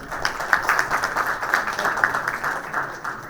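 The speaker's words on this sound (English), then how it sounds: "Can we have a huge round of applause for Dr. Dinesh Chauhan." A round of applause greets a guest at an agribusiness committee launch event, a moderate patter of clapping from a modest audience, uneven and steady for a few seconds.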